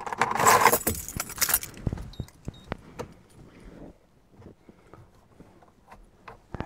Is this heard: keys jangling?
yes